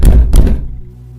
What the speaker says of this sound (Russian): В дверь нашего блока постучали, негромко, но настойчиво.